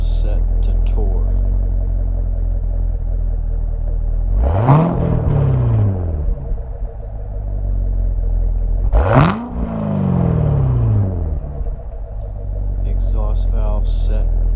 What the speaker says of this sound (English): Exhaust valve set to tour.